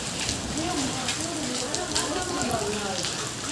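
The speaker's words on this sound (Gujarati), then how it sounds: "આમ જો કરા પડ્યા અહીંયા" Dense, steady pattering of hail striking clay roof tiles, a constant hiss of impacts, with a voice talking over it.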